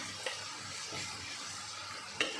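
Pointed gourd with poppy seed paste and sugar is stirred in a pan, producing a steady, close sizzle with soft scraping strokes and a couple of sharp utensil clinks.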